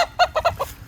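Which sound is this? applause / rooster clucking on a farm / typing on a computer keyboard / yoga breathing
rooster clucking on a farm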